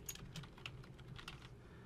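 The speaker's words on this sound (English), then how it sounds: "Now I'm going to type my first and last name." Soft, quick keystrokes on a computer keyboard as a name is typed, a short run of close, light taps with no talking.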